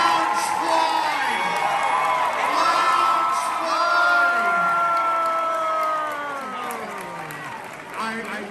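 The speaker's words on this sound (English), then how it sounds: "Come give her a round of applause." A crowd cheers, whoops and claps at a Knott's Scary Farm 50th-anniversary presentation at Midsummer Scream, with loud excited voices shouting over the applause throughout, easing slightly near the end.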